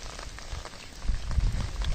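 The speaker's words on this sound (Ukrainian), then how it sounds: "Знову у нас дощі падуть." Steady rain falls outdoors in early April, a dense patter of drops on surfaces that grows heavier and closer after the first second, with no voices.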